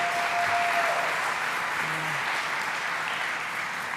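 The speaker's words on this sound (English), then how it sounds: "Let's give him a round of applause." Steady applause from a crowd at a New York gun control bill signing, greeting Lieutenant Governor Antonio Delgado, a dense even wash of clapping that continues for several seconds with a brief faint tone near the start.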